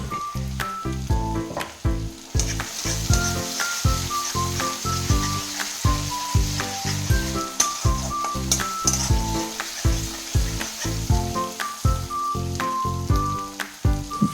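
Golden-brown onions sizzle loudly in a pan as ginger garlic paste goes in, with constant frying crackle and frequent stirring scrapes and clinks, close and busy throughout.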